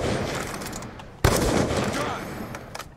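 Gunfire in Black Ops 2, a sudden sharp shot partway through that cuts over continuous noisy game sound, with a few fainter pops toward the end.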